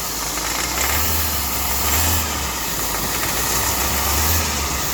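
A diesel car engine runs steadily with the throttle held open during an EGR, intake valve and turbo cleaning treatment, a loud continuous drone with slight swells in pitch and no voices.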